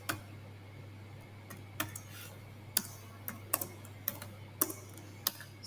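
Code being typed on a computer keyboard, close-up: irregular quiet key taps with a few sharper clacks spaced through the clip over a steady low hum.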